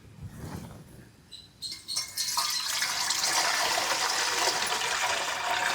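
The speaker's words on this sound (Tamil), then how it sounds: "தண்ணியை ஊற்றுமா." Water is poured into an idli steamer pot on a lit stove, first with soft splashes, then a loud, continuous gushing stream that fills the rest of the moment.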